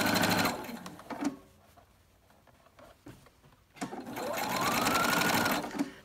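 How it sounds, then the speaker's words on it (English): A sewing machine stitches a fabric dust cover for a Cricut Maker cutting machine, running in two loud, steady bursts of rapid mechanical whirring separated by a quiet pause with small handling clicks. "Not pulling hard, just helping it go through the sewing machine."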